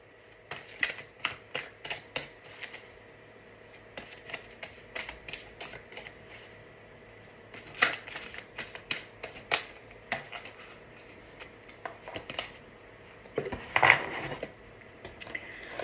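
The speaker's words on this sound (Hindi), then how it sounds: "हम आर्कएंजल माइकल की तरफ से एक कार्ड ले लेते हैं" Tarot cards being shuffled in close-up during a reading, a run of quick riffling flutters and soft slaps in irregular bursts, with a louder flurry near the end and no talking.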